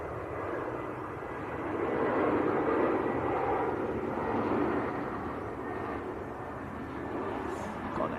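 A Norse Atlantic airliner taking off empty from Manchester Airport on a positioning flight to Gatwick, a broad, steady jet-engine roar heard from a distance, swelling slightly and then holding steady throughout.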